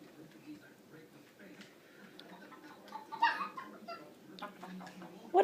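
A voice imitates a chicken clucking, a few short bursts under a quiet room, with an adult voice nearby and a louder burst near the end.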